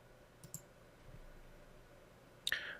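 Computer mouse clicks while text is selected and right-clicked in a word processor: a couple of faint, close clicks early on, then a brighter, sharper click cluster near the end, with no talk.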